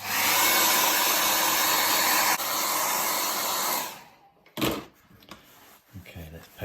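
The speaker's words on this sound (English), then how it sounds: "I know we need the hairdryer treatment now." A hair dryer blows steadily and loudly for about four seconds while drying a children's squirrel painting, then cuts off, followed by a few clattering knocks and handling noises.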